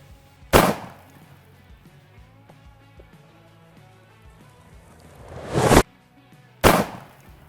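A shotgun loaded with Winchester Super X 3-inch 15-pellet double aught buckshot fires at cinder blocks outdoors: three sharp, loud blasts, the first alone and the last two close together, with quiet between them.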